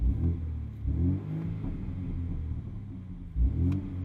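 A BMW M235i Gran Coupe four-cylinder with its M Sport exhaust in sport mode gives a low, steady rumble and growl, swelling in short pulses with a few faint pops, heard from close by inside the car.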